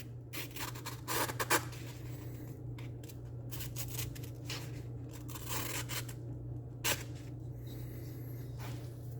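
A dull knife edge is drawn through paper in a knife edge retention test, producing repeated rough, scratchy slicing strokes close by over a steady low background hum.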